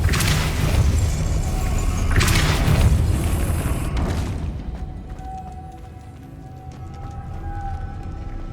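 A Depulso spell cast in Hogwarts Legacy gives a loud, dense whooshing burst that swells and fades over several seconds, then leaves a quieter ambient hum.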